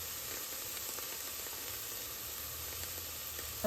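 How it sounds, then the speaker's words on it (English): Minced garden garlic sizzles steadily in a hot pan, a close, even frying hiss that carries on without pause and with no voices. "we're just going to saute this till it's nice and fragrant"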